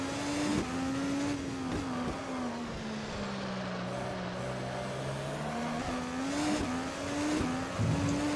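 An IndyCar IR18 race car in Automobilista on the Houston temporary street circuit, its engine droning steadily at sustained revs with gear shifts and slight pitch changes through the lap, near and continuous with no voices.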